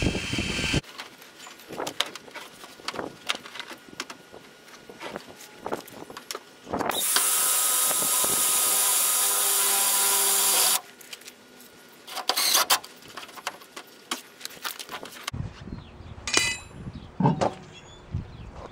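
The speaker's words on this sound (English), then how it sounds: "So I went and got a regular drill with the drill bit. I'm just gonna pre-drill my holes." A handheld electric drill pre-drills holes for fender flares on a Dodge Dakota, with a steady whining run of about four seconds in the middle, framed by clinks and handling noise from the work.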